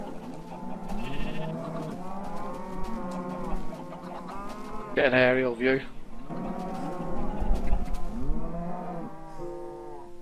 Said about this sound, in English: That's a lot of cows.